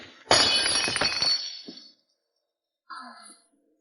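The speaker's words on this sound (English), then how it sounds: "And smashed his favorite antique vase" An antique jade vase smashes with a loud crash and a long spill of shattering, tinkling shards that fades out, followed after a pause by a brief soft sigh-like sound.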